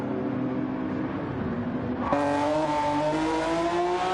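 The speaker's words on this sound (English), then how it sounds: "the engine that sounds like a jar of angry hornets" A buzzing, high-pitched race car engine in a video game revs steadily, rising sharply in pitch halfway through and holding a loud whine.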